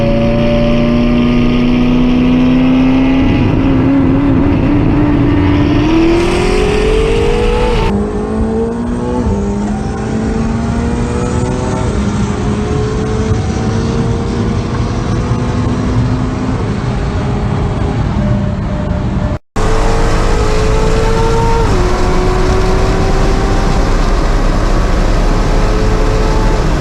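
Loud engines of a twin-turbo Dodge Hellcat and a 1,000-horsepower Corvette ZR1 roar and rev continuously, pitch climbing and shifting through gears as the cars race, with a brief cut near the end.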